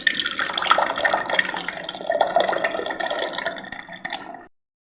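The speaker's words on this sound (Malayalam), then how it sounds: "ജാറിലേക്ക് അങ്ങ് ഒഴിക്കാം" Liquid being poured into a mixer grinder jar while preparing a ragi drink, a steady splashing, trickling stream that runs close and fairly loud for about four and a half seconds before stopping abruptly.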